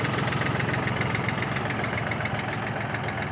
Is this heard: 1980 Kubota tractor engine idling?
yes